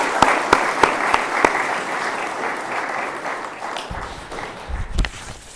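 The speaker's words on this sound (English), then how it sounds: "give them a massive round of applause for their great effort" A school audience at a presentation day applauds the vice captains, a dense burst of clapping from a large crowd that starts with a few sharp claps and then slowly fades.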